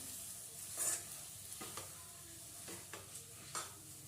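Wheat flour sweet cooks with ghee in a pan. A faint, soft sizzle continues while a spoon scrapes and stirs in a few distinct, spaced strokes.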